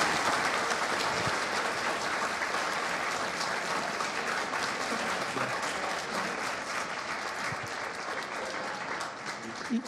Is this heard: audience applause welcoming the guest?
yes